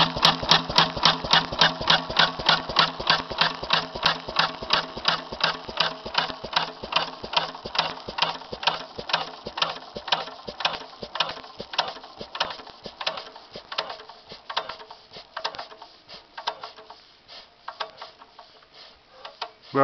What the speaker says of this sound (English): Lister B, 5 horsepower, from 1942.